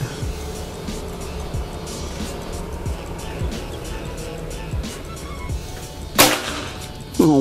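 A Predator air rifle with a luxury folding stock fires a single sharp shot, with a short crack and some echo near the end, over a low, busy outdoor background.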